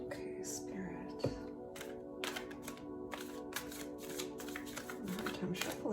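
Tarot cards riffle and slap in repeated quick bursts of papery shuffling, close and fairly loud, while a person talks over the sound.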